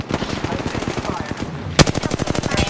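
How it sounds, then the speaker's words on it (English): Rapid automatic gunfire in the battle royale game Apex Legends, dense repeated bursts of shots with a sharper, louder burst partway through, close and continuous. "Listen up, I'm getting shot at."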